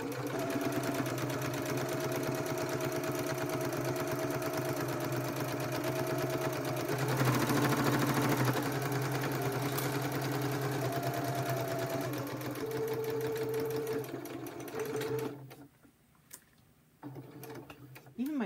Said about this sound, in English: sewing machine does not like to sew in a straight line.